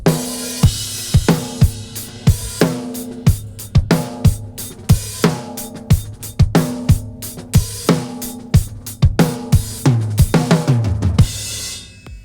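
A hybrid acoustic-electronic drum kit plays a steady groove with punchy kicks, snare hits and tom fills, mixing acoustic ring with sharper electronic tones, ending in a cymbal wash.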